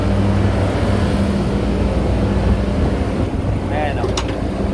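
A repaired compressor runs with a steady, loud, low droning hum and mechanical rumble throughout, close by, with a faint voice briefly audible near the end.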